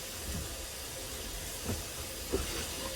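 Sausage drops into hot pork fat in a pan and sizzles with a loud, steady broadband hiss, broken by a couple of soft pops and a sharper crackle at the very end.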